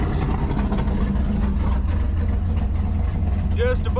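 A 600+ hp Dodge Charger with an exhaust leak idles after several minutes of warm-up, giving a steady, loud, low rumble throughout. A voice starts speaking near the end.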